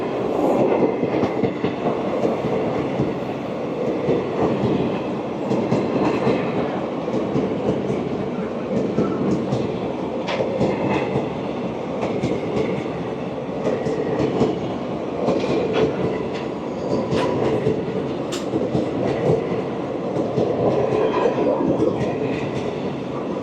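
A Garib Rath Express passenger train runs on a single-line track, heard from on board as a loud continuous rumble with rhythmic clickety-clack of wheels over rail joints and occasional squeals throughout.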